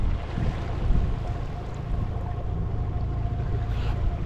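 A boat motor runs on the water in the Danube Delta, a steady low droning hum mixed with wind and water noise, close and continuous with no speech.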